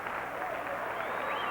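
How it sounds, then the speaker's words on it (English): Boxing fans stand and applaud after a ten-round heavyweight bout, a dense, steady wash of clapping and crowd noise that stays loud for the whole moment, with a voice talking over it. "The fans standing and applauding."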